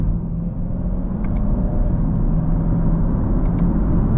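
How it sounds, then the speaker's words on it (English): A 2018 Chevrolet Camaro SS 50th Anniversary Hot Wheels Edition V8 rumbles steadily from inside the car during a slow manual-mode downshift, a loud continuous drone with faint clicks above it. "And if I was to downshift, you can see that took a while before it even kicked in."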